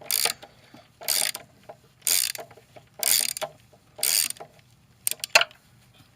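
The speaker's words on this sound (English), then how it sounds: "I'm just going to loosen them all so you guys can see just where every bolt is" A ratchet loosens the intake manifold bolts on a Mustang GT. There are six bursts of fast clicking, each lasting about a third of a second and spaced about a second apart, with two quicker bursts at the end. The clicking is close and sharp, with no talking.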